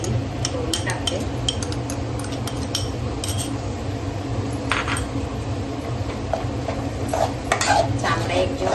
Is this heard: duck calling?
no